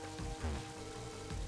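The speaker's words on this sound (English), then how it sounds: "That's cold rain." Cold rain from the video game Mother 3 falls steadily, a soft, even patter under a low, faint game background with no speech.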